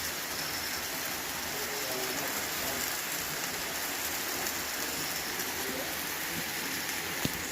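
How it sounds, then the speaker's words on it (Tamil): Steady rain falls in a dense, even hiss around a home kitchen in the late afternoon, continuous and moderately loud with no breaks and no voices. "மழை பெஞ்சிட்டு தான் இருக்குது."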